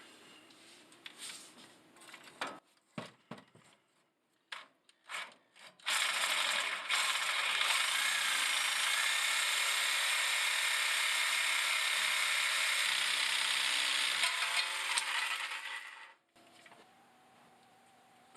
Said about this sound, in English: So I'm just going to go ahead and cut it with a reciprocating saw.